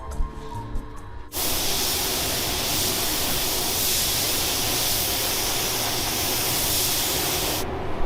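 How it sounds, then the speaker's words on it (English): A spray gun blasts thick resin onto Blazer parts in a loud, continuous hiss that starts abruptly and runs for several seconds before cutting off, with no voices over it. "we've got to hustle and get them sprayed so they don't harden up"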